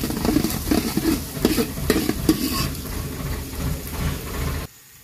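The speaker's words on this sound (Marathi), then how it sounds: "कांदे चांगले घालून घ्यायचे, कांदे चांगले लाल होते" Onions fried in a pan for an Indian egg curry, giving a steady sizzle with stirring scrapes and clinks at close range before the sound drops away near the end.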